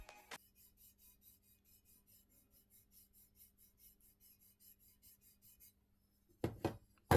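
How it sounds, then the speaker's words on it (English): Faint, dry rasping and scraping of parts rubbing against the gearbox of a Novritsch SSR4 airsoft rifle, a steady fine texture that ends in a couple of louder scrapes and knocks. "This is the sound when you're touching the gearbox here."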